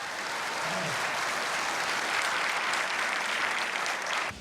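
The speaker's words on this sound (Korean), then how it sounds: "봉준호 감독이 소개되자 박수가 터져 나옵니다." An American audience at a screening of Memories of Murder breaks into dense, steady applause for director Bong Joon-ho, sustained and fairly loud throughout before cutting off at the end.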